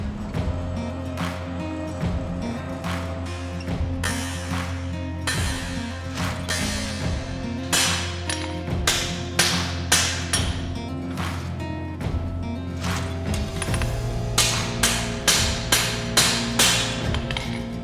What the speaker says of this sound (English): So we'll actually start forging the edge now.